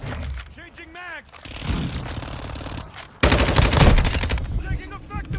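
Rapid automatic gunfire in Call of Duty Modern Warfare II, with a Lachmann-556 rifle in play. Loud bursts and fusillades fill the clip, under shouted in-game voice callouts.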